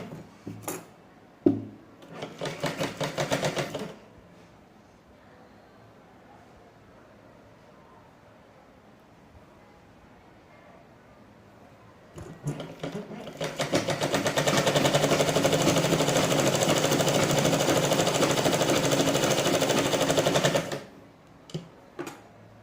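Sewing machine stitching the lining strip of a blouse: two bursts of machine whirring, a short one early and a longer steady run near the end, with quiet handling noise between.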